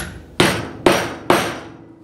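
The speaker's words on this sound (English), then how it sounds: "We'll use my special tool here, and then a hammer to kind of tap it on." A hammer strikes a special tool three times to tap a bearing into place during reassembly of a KM2-A, each blow a sharp metallic clank with a ringing decay, evenly spaced and close up.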